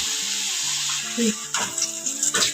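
Jowar flour papad frying in hot oil gives a bubbling, watery sizzle close by, with a person talking over it.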